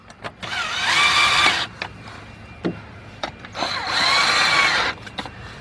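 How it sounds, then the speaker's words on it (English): A cordless drill with a 10mm deep socket on a 3/8 drive whirs in two sustained bursts driving bolts during a Lexus LS460 starter replacement, each winding down, with clicks and clatter of handling between. "10mm deep, 3/8 drive with my cordless drill."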